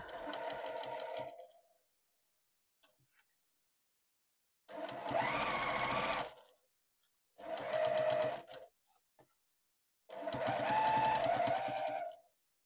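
A sewing machine stitches denim quilt pieces cut from old jeans, running in four separate bursts of a couple of seconds each, with quiet pauses between them, close and steady.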